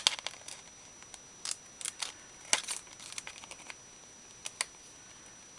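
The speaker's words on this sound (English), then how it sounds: "I'm going to trim it back this way just a touch" Scissors snipping paper for a journal craft: a run of short, crisp cuts, some in quick pairs and others spaced apart, close and fairly quiet, with no talking.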